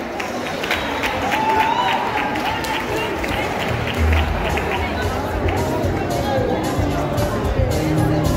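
Audience applause at a live event in the Boulders Shopping Centre mall, steady clapping from a crowd with cheering and background chatter, under a loud indoor hubbub.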